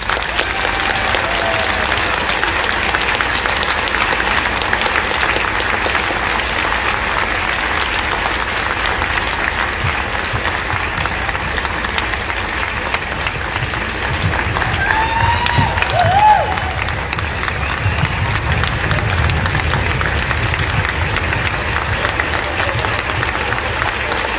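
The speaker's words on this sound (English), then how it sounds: "deserves a round of applause from each and every one" A large outdoor crowd at a March for Life rally applauds continuously, a dense, sustained wash of clapping with some cheering mixed in.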